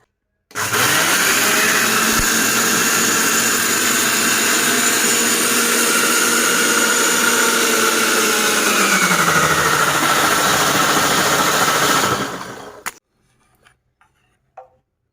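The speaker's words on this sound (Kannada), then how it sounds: "ಇವಾಗ ಇದನ್ನು ರುಬ್ಕೊಂಡು ಬರುವ" A mixer grinder whirs loudly and steadily as it grinds neer dosa batter of soaked ingredients and water, running for about twelve seconds before cutting off abruptly, followed by a few small clicks.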